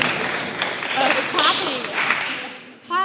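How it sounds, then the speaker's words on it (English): Audience applause at a career talk, a broad steady patter of clapping that carries throughout with voices mixed in, swelling briefly at the very end. "clapping is so obnoxious."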